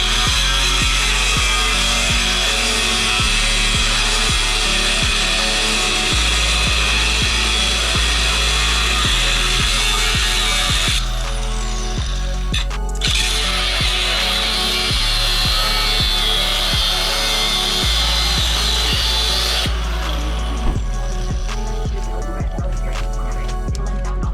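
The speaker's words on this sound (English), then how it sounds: "you drill the holes and then cut right along that line right there" A power drill and saw cut through a truck frame, grinding and whining loudly and without pause, a harsh metallic cutting noise that shifts in pitch now and then, with no talking.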